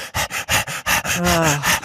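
A person imitating a giant dog in a theater with rhythmic huffing, panting pants followed by a drawn-out whining tone, close and loud.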